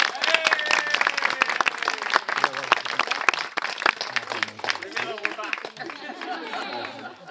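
A crowd at a town festival proclamation applauds loudly and steadily, the clapping mixed with chatter and a few voices before gradually thinning out.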